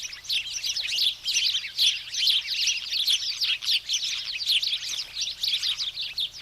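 A flock of house sparrows chirps continuously and busily, dense overlapping high tweets and chatter filling the scene at close range with no pauses and no voices.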